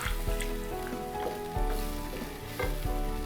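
Vada curry gravy thinned with water bubbling and sizzling in a pan, a steady close crackle with a few soft stirring knocks.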